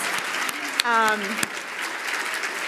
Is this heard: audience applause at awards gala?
yes